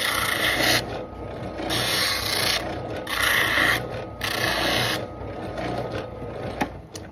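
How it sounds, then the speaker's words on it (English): An orbital drum sander smooths the cut edge of a Kydex holster, giving a steady rasping whir that swells and eases in repeated passes as the plastic is pressed against the drum, with no talking. "the old orbital drum sander."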